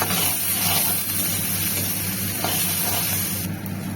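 Fish fries in a pan of hot oil, a dense steady sizzle and hiss that holds at an even loud level throughout, with no voices.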